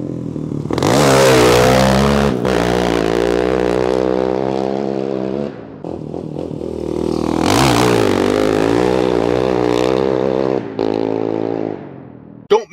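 A dirt bike engine revs hard and holds a loud, near, harmonic roar for several seconds, drops off, then surges again through a second rising run before fading out, with no talking.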